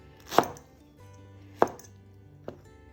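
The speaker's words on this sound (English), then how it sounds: "Cutting the pineapple is pretty easy." A knife cutting pineapple into strips on a board, three separate sharp chops spaced about a second apart, close and clear with quiet between them.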